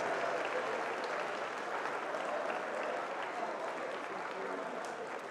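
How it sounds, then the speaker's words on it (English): Sustained applause from an audience at a school awards ceremony honouring academic champions, a steady dense wash of clapping filling the room for several seconds without letup. "Let's give them all a great round of applause"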